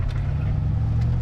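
A C2 Corvette Stingray engine rumbles while driving, a deep, throaty, steady low drone heard from inside the car, loud and continuous with no voices over it.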